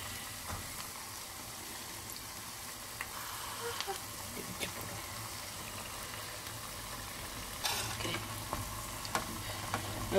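Cauliflower pieces deep-fry in oil for Gobi 65 with a steady, fairly quiet sizzle and crackle that runs throughout, plus a few louder pops near the end.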